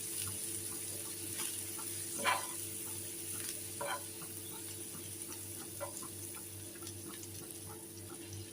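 Slices of bread frying in butter in a pan give a soft, steady sizzle with scattered small pops and crackles, close and fairly quiet, with no talking.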